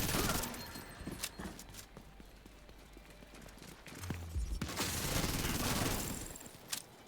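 Gunfire from The Division 2 rattles in rapid, loud bursts as players shoot a boss, with intermittent sharp shots and a strong volley near the end.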